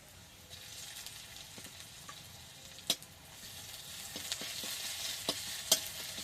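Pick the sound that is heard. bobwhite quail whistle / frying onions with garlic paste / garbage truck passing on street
frying onions with garlic paste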